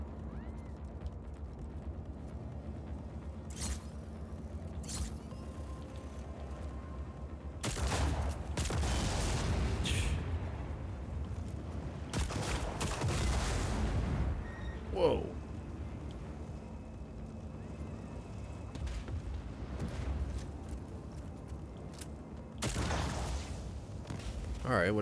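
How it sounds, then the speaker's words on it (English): Explosions and gunfire from the open-world action game Just Cause 4 on PS4, with heavy booms and sustained rumbling bursts. A person talks over the noise. "these explosions look really good"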